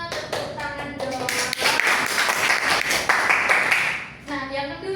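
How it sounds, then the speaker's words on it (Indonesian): A classroom of students breaks into a burst of applause during a teaching session, several seconds of dense clapping with a voice speaking just before and after. "Tepuk tangan dong."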